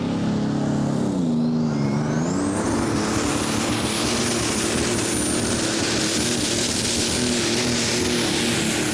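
A pulling tractor powered by a DAF methanol truck engine roars loudly and steadily through a full pull at a European championship tractor pull in Norway, its engine note climbing early and then holding a sustained high-pitched drone.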